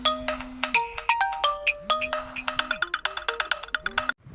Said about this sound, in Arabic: التليفون رن فالفيديو فصل